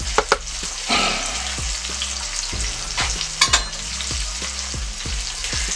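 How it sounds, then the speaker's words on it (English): A tablespoon of minced garlic sizzles and fries in a pan, with a steady hiss broken by sharp scraping knocks roughly once a second as it is stirred. "And then we're gonna add about a tablespoon of minced garlic. We're gonna stir that up in there real good."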